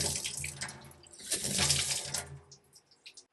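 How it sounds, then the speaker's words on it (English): Water gushes from a commercial faucet with a sprayer, a loud rushing flow that swells and then tapers off into a few brief splashes. "So I'll turn the water back on."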